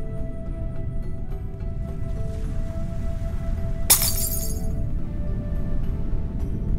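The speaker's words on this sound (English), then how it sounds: "The bottle's broken into shards of glass." A single glass bottle shatters into shards in the adventure game Secret Files, a sudden bright crash with a tinkling tail over a steady low ambient background hum.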